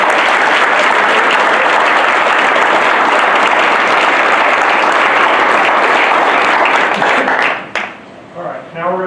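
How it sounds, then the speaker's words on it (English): Sustained, loud audience applause fills a school board meeting honoring students, steady for about eight seconds before thinning out as a voice begins speaking near the end. "All right, big round of applause."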